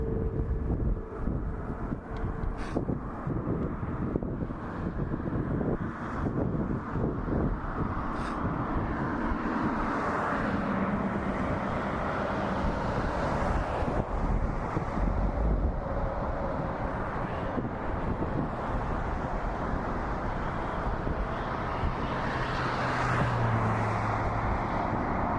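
A TAP Air Portugal Airbus A321neo bound for Lisbon takes off at night from Toronto Pearson, a steady distant jet roar mixed with wind buffeting the microphone, swelling gradually over about 25 seconds.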